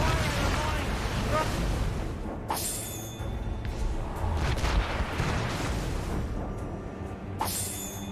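Ship cannons firing during a naval battle in a video game, with heavy booms and rumbling blasts over wind and sea noise, plus sharp bursts near the middle and end.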